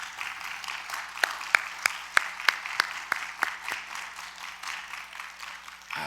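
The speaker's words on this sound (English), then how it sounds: "I want to give all of our award winners one more round of applause" Sparse, individual claps echo through a large, reverberant church hall at a virtual awards ceremony, a handful of distinct hand claps spaced out over a few seconds above a quiet hum.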